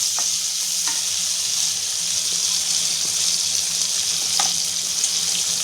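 Thickly chopped onions fry in a pan with cluster beans, giving a steady, bright sizzle with a few faint spoon taps and stirring scrapes; nobody speaks.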